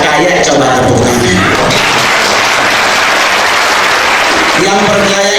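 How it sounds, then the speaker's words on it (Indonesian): A stand-up comedy crowd in Indonesia claps loudly in a packed room, dense applause mixed with crowd noise and some talking, swelling and fading near the end. "coba tepuk tangan"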